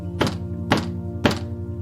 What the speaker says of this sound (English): the leader bangs a gavel on the desk